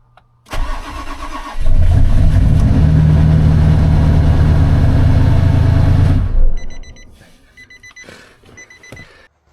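A Nissan Titan XD diesel pickup cranks and fires, then settles into a loud, steady mid-pitched idle for several seconds before cutting off, followed by faint electronic chimes.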